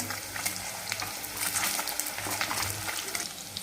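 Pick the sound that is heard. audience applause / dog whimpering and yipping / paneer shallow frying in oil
paneer shallow frying in oil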